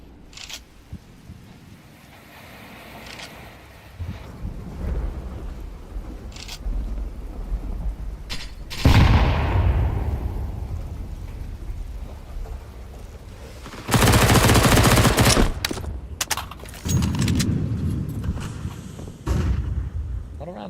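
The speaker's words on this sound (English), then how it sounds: "Avid. Presses with his MP9. Finds the opening kill and has a chance to then upgrade off of this SMG." Gunfire from a Counter-Strike esports match, including MP9 submachine gun bursts, comes in scattered sharp shots and dense rapid bursts under steady caster commentary.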